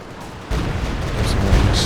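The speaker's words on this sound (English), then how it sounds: "That was a much better barrage from Tomy" Artillery barrage in Company of Heroes 2, a loud, continuous rumble of booms and blasts that cuts in abruptly and keeps pounding, with a few sharper cracks near the end.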